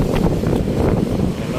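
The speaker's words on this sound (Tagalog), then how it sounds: "Malamig ang simoy ng hangin dito mga kabayan." Steady wind blowing by a river bridge in Metro Manila, a broad continuous rush that stays loud and close for the whole stretch, with no voices.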